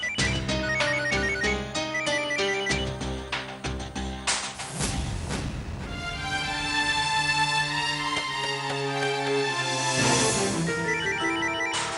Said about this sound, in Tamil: டேய் கிருஷ்ணா, ஃபோன் எடுக்காம இருக்காதுடா